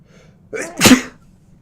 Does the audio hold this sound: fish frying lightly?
no